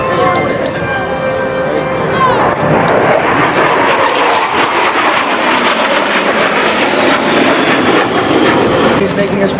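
An F-18 fighter jet at a 2002 air show, approaching to land, gives a loud, continuous roaring rumble that stays strong and close throughout.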